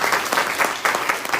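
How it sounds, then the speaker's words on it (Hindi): Audience applause at a training session in Lakhimpur: a dense, steady round of many hands clapping close by, holding a fairly even level for its brief length with no talk over it. "एक बार ताली बजा दीजिए।"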